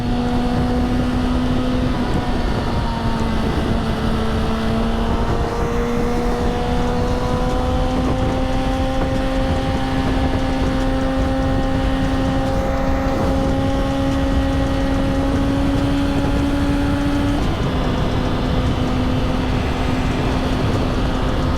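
A Suzuki GSX-R1000 motorcycle engine during wheelie practice: a loud, continuous drone whose pitch climbs slowly, with one sudden shift late on, heard up close without any talking.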